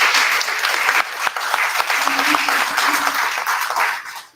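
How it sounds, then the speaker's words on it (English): A candidates forum audience in Santa Paula gives the volunteers a quick, dense round of clapping, loud and steady throughout before it cuts off. "How about a quick round of applause for our volunteers?"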